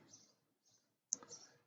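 A single sharp computer mouse click sounds in a quiet room while working in Tableau software, brief and close, preceded by soft faint background shuffling.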